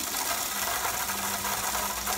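A water tap vacuum aspirator sucks liquid through a filter during a fertiliser sulphate analysis, giving a steady rushing, whirring hiss that is close and continuous.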